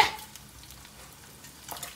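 Spam slices fry in an oiled pan, giving a soft continuous sizzle with a sharp scrape at the start and a few light clinks and shuffles as the meat is nudged around.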